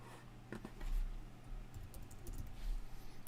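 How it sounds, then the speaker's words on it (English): Computer keyboard typing, soft and sparse keystrokes tapping in a quiet room over a low steady hum, no talking. "Typing some things."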